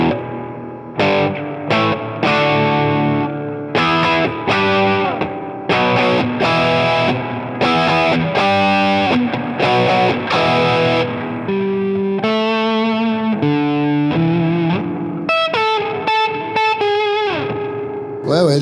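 Electric guitar played through a large touring pedalboard, loud and close, with distorted, chorused and reverberant tones in choppy rhythmic chords and riffs that shift to sharper staccato notes near the end.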